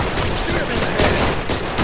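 Rapid gunfire in the shooter game Blue Estate, a dense, loud stream of shots and impacts packed together with no pause across the short burst.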